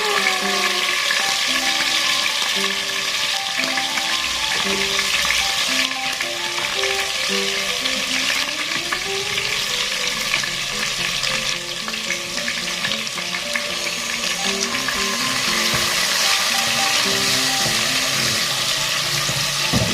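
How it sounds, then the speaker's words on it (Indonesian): Basic spice paste hisses loudly and continuously in hot oil for the full stretch, a dense sizzle running beneath steady background music with no talking. "ini minyaknya udah panas. Waktunya kita masukkan si bumbu dasarnya."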